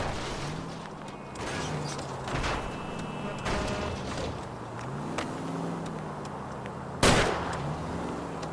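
Gunfire during a car chase in the video game L.A. Noire: several sharp shots ring out between rumbling engine noise and mechanical clatter, with one loud blast near the end.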